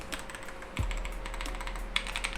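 Typing on a modded K552 mechanical keyboard, a quiet, close run of soft, muffled keystrokes in an irregular rhythm, alone without talk.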